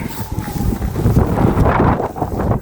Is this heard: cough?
no